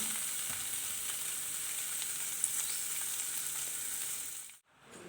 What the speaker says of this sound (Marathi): हा पनीर अशा प्रकारे आपल्याला शॅडो फ्राय करून घ्यायचा आहे